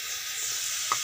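Potatoes sizzle steadily in a pan of hot oil with salt and turmeric, a constant close hiss with one brief faint clink near the end.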